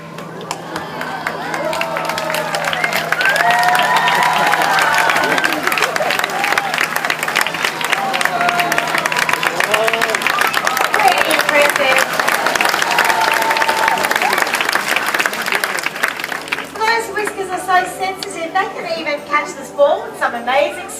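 A zoo audience at Taronga Zoo claps and cheers for a seal named Mitchie, producing a loud, dense wash of applause with shouts that runs steadily for about twenty seconds before thinning out near the end.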